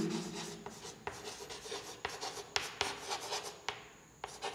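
Chalk or marker scratches and rubs across a board during a physics lesson, in short, irregular strokes with sharp taps between them, faint and close, with no talking.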